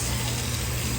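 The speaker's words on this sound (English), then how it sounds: "let's get some hot water going here" Hot water runs steadily from a tap to rinse a dirty Ninja Foodi Grill part, a continuous broadband rushing gush that stays loud and even throughout with no talk.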